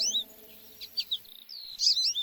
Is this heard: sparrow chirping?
yes